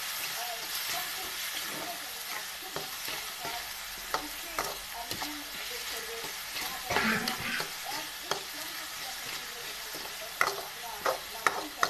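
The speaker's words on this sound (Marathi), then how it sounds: "आता हळदी, लाल तिखट आणि नमक टाकून घेतलंय मी. हलवून घेते मस्तपैकी." Potato and capsicum with turmeric, red chili and salt are stirred in a pan while frying, giving a soft continuous sizzle with intermittent scraping clicks of the spoon and a louder stir partway through.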